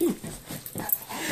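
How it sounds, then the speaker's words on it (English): A dog whimpers and yips in short, soft bursts at close range while a person fusses over it, with brief high squeaks breaking through. "Oh, lovely dog."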